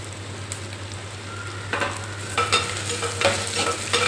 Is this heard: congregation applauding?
no